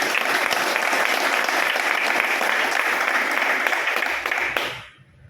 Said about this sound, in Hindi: अरे ताली बजाइए, क्या बात है।